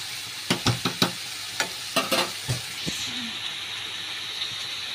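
Daliya khichuri with ripe green chillies simmers in a pot while a spoon stirs it, producing a run of sharp clacks and scrapes against the pot over a constant hissing bubble, which then settles into steady simmering.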